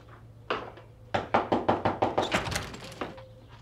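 A stuck door is rattled once, then knocked on in a quick run of about nine firm raps, close and loud, with a short thump near the end and no talking.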